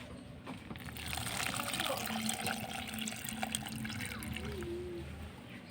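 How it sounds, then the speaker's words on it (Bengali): Water poured from a can onto potted marigold flower plants, a steady splashing trickle close by that runs continuously with no talking. "এরপর আমি কি করছি জল পর্যাপ্ত জল দিয়ে দিচ্ছি"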